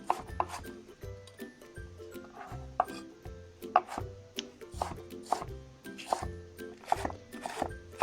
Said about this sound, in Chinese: 我们先来切一些葱花